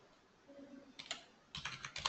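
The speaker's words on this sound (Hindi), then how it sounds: "क्लिक करके टाइप करना है" Quiet keystrokes on a computer keyboard come in two short clusters of rapid clicks, close and soft, with no talking.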